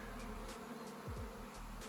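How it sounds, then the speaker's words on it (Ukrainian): A steady, dense buzzing of many honeybees swarming close by as they crawl out of a hive box, continuous and loud throughout, with no voices. "не знаю, рамки нема, бджоли вилазять."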